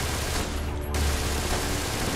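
Gunfire in the World War II stealth-tactics game War Mongrels, a continuous dense crackle of rapid shots with a heavier low thump near the middle, steady and loud throughout.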